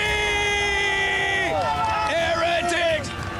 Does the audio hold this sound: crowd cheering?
yes